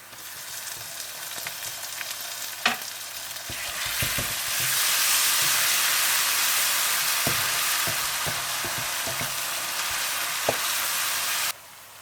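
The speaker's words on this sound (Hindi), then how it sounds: "आप इसमें पिसा हुआ अदरक लहसुन डालकर अच्छी तरह से भून लें" A steady, close-up sizzle of ground ginger-garlic paste frying in hot oil in a karahi for keema, with a few light clinks of stirring scattered through the hiss.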